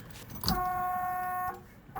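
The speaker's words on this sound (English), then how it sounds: "Buzzer still works." A steady electronic warning buzzer tone from a 1970 W-30 car sounds for about a second, close and clear, after a faint click.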